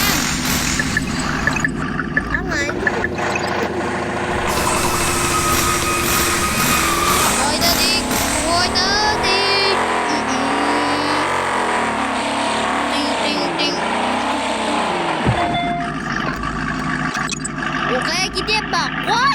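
Car engine revving in a driving video game, a steady high-pitched whine rising and falling continuously under excited chatter and laughter from two people throughout.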